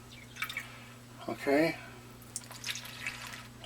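Water from a cup is poured into a bowl of cheap white flour in a short liquid splash and trickle lasting about half a second, set among faint clinks and quiet talk.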